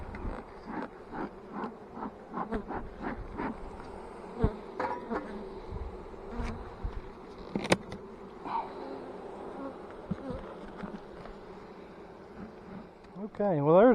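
Honey bees buzzing steadily around an opened hive during an early spring inspection in West Virginia, a dense close drone with occasional louder passes near the ear.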